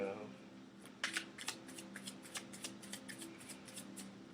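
Tarot cards being shuffled and dropped by hand, a quiet run of crisp riffling snaps and flicks in an uneven rhythm after a brief pause, close up, with a faint voice in the background.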